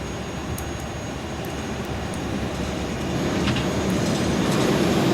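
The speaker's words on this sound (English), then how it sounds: "Man, this airplane is a loud one." Loud, steady broadband engine noise from an Airbus A300 airliner in a flight simulator, heard from the cockpit on a cargo flight, continues without a break and slowly grows louder.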